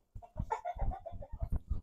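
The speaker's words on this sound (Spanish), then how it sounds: "Por aquí tenemos una de mis mejores gallinas que he conseguido." Backyard hens, including a Brahma, cluck in a steady run of close, loud calls with brief pauses, with no talking over them.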